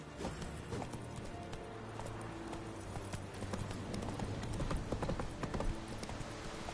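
Roach, the horse in The Witcher 3 on PS4, trots with a brisk, steady clip-clop of hooves throughout, close and clear, with faint game ambience beneath.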